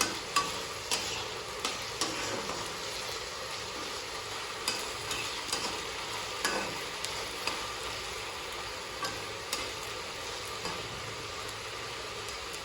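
Cashews frying in oil alongside onions and ginger-garlic paste for a home-style mutton fry, a steady close sizzle broken by regular clicks and scrapes of a stirring spoon against the pan, with no talk.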